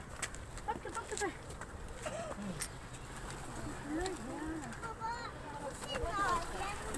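Pigeons coo softly in short, repeated calls at the Cave of Hira, mixed with distant background bustle and people talking nearby.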